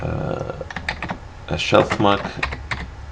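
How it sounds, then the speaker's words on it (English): Someone types quick bursts of keystrokes on a computer keyboard, close and crisp, while a person speaks over the clicking. "By clicking on a field, I'm now ready to type"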